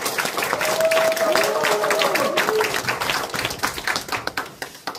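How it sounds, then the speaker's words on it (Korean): A hall audience at a Basic Society Committee launch ceremony in a Boeun county rural center claps to welcome a National Assembly member to the microphone. Dense, loud applause thins into scattered individual claps near the end. "그럼 여러분들 큰 박수로 모시겠습니다."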